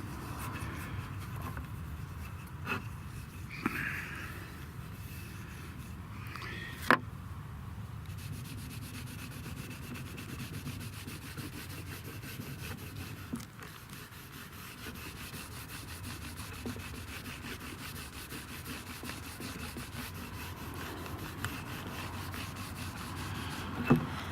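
Oil being rubbed by hand into the wood of a handmade guitar: a faint, steady, close swishing friction with a few soft knocks, continuing without pause.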